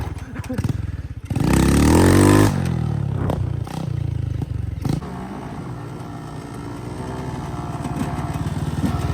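A Yamaha YZ 125 dirt bike engine revs hard in a loud burst, then settles into a rough, clattering idle with scraping noises.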